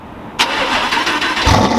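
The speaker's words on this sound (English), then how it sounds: "the R8 exhaust is just, it's girthy, it's deep, so nice" An Audi R8 engine cranks and catches with a sudden loud burst, then settles into a deep, steady running rumble, close and without talk.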